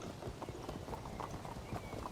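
Horse hooves from the medieval strategy game Field of Glory Medieval as javelin cavalry move in, a quick, fairly faint run of clip-clopping hoofbeats with a low rumble beneath.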